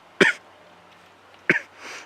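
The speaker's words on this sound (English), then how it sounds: "Can you please just stop coughing for 1 minute?" Two sharp, harsh coughs about a second apart, close by, with quiet in between and a faint rustle at the end.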